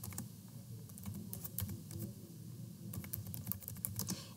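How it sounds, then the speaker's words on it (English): Typing on a computer keyboard: quick, irregular clusters of light key clicks, close and clear, with a short pause midway, against a faint room hum and no speech. "Here under name, I will type the title of my video."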